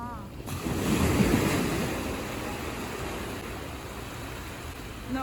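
Sea waves wash onto a beach in Busan, a steady broadband surf rush with wind buffeting the microphone, swelling early and then holding level and fairly loud throughout.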